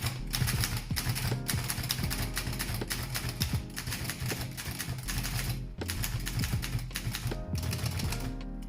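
An old mechanical typewriter with no ink ribbon fitted is typed on up close, giving a dense, steady run of sharp key strikes and clacks that continues alone for the whole stretch with only brief pauses.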